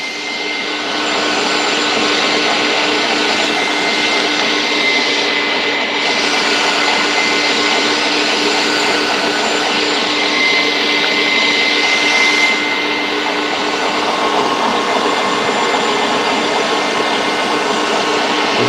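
Meat grinder running steadily on a 3/16 grind for bratwurst, a loud, continuous motor whir with a dense grinding hum that holds nearly unchanged throughout, no voices over it.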